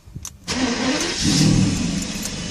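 A Mercedes S600 engine turns over on a cold start at 41 degrees and catches, then settles into a steady, slightly rough idle, heard up close.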